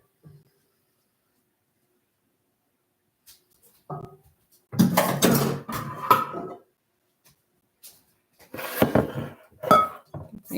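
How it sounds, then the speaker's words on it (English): A spoon scrapes and clinks against a bowl while flour is stirred into banana nut bread batter, coming in scattered clusters of knocks and scrapes separated by quiet gaps. "I think I'm just going to stir in my flour"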